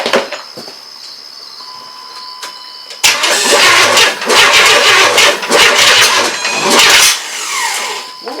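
A car engine cranking and catching for the first time after being installed, a few seconds of faint whine and ticking, then a loud, close roar that surges and wavers unevenly before dipping away.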